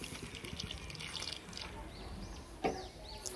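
Water is poured from a vessel into a cooking pot, a brief close splashing and gurgling with a small clink near the end, fairly quiet.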